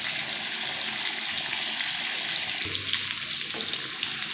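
Onion and yogurt paste goes into a pan of frying masala for chicken korma, giving a steady loud sizzle and hiss throughout, with a brief splashy wet burst partway as the paste hits the hot oil.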